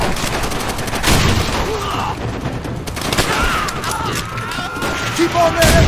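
Machine gun fire in the Call of Duty: World at War campaign, loud bursts and booms of gunfire running through the whole stretch, with shouted battlefield voices mixed in among the shots.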